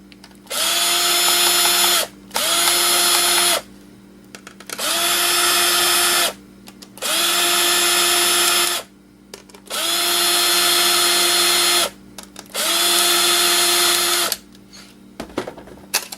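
A power drill unscrewing a screw from a scrap metal part with a fan and copper windings, running in six loud, steady whirring bursts of about one to two seconds each, separated by short pauses.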